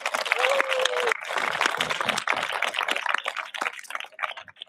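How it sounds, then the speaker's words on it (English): A graduation audience for the class of 2026 bursts into dense, sustained applause, many hands clapping at once in a large room, with a brief whistle near the start and the roar tapering slightly toward the end. "Can we have a round of applause for that?"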